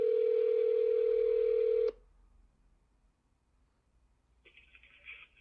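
A telephone tone on a recorded call to an attorney's office holds steady for about two seconds, then cuts off into near silence before a brief, higher electronic tone sounds near the end.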